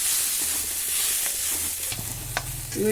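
Green chillies fry in a pan with a loud, continuous sizzle and hiss, plus a few stirring scrapes toward the end. Nobody speaks.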